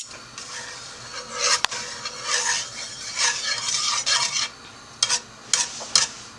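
Sausages sizzle in a hot oiled pan, with scraping and stirring of a utensil against the metal and a few sharp clinks, no voices.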